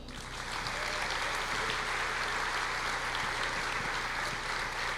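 A church congregation breaks into sustained applause, a dense, even wash of clapping from many hands that swells within half a second and holds steady.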